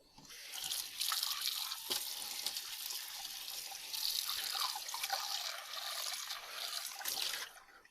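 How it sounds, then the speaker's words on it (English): Running tap water splashing into a sink while a dusty kiln-fired handmade clay bowl is rinsed, a steady close stream with small drips and shifting splashes. "We just wash it off right there in the sink"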